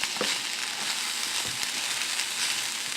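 Fried rice sizzles and crackles steadily in a hot pan while it is stirred, with a few soft scraping clicks from the utensil under the constant frying hiss.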